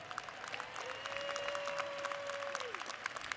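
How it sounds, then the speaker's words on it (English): Commencement ceremony audience at New York City College of Technology breaking into steady, dense applause from a large crowd, with a faint sustained tone running through the middle of the clapping. "we could clap it up for love."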